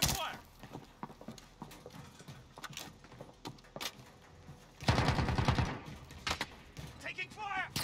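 Gunfire in Call of Duty Warzone: scattered sharp shots crack through the first half, then a dense, loud automatic burst takes over, with more scattered shots after it, under in-game voices.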